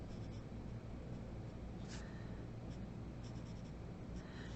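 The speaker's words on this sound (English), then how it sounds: "So I'm going to erase that part right there." Pencil lines rubbed out with an eraser on paper during a one-point perspective drawing, a faint, steady scrubbing close to the mic, very quiet over a low background hiss.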